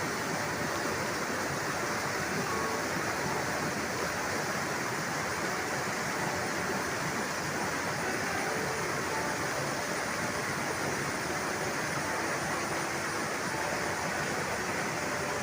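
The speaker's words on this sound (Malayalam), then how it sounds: "ഈ പാറകൾക്കിടയിലൂടെ പ്രത്യേകിച്ചൊരു ലക്ഷ്യമില്ലാതെ പല സ്ഥലത്തൂടെ കയറി ഇറങ്ങി ഒഴുകുന്ന ഈ വെള്ളം" Water from Kadavupuzha waterfall in Kottayam, Kerala, flowing over and between rocks at lower flow, a steady broadband rush that holds constant throughout without pauses.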